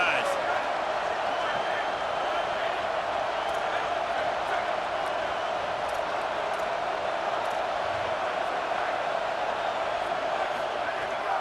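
College Football 27 game stadium crowd, a constant wide roar of noise throughout, with commentary voices over it.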